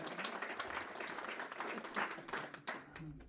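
An audience at an entrepreneurial networking event applauds in an uneven burst of claps and cheering, with voices mixed in and the clapping thinning toward the end.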